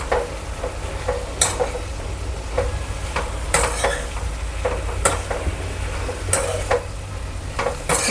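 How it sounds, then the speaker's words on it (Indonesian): Creeping spinach sizzles steadily in a pan, plain stir-fried with nothing else added, while a utensil scrapes and clinks against the pan every second or so. "kalau aku sih lebih sukanya ditumis begini aja ya, tumis polos gitu loh"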